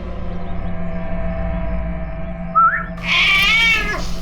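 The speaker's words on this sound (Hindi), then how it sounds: "ये है वो बिल्ली" A cat meows up close, one short cry followed by a longer, drawn-out meow, over a low background hum.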